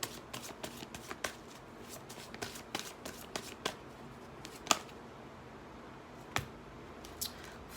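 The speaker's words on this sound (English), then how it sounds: "I want to pull a couple of cards off of the Doreen Virtue Romance Angels deck" Cards from a Romance Angels oracle deck being shuffled and pulled, a run of crisp riffling snaps and soft slides close to the microphone, irregular bursts with brief pauses between them.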